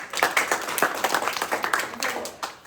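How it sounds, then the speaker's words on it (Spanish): Audience clapping after a university seminar presentation by students, a short burst of scattered, fairly close handclaps with some voices mixed in. "Aplausos para los chicos."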